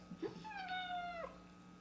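A cat gives one drawn-out, rising then falling meow indoors, near and moderately loud, with a faint steady hum underneath.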